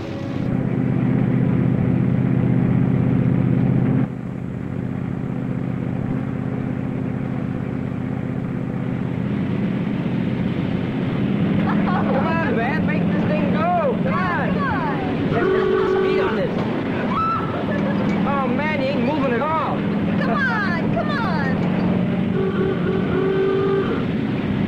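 Pierre's car, a 1950s automobile, speeds along a road with a loud steady engine drone that drops in level after a few seconds, while people talk over it.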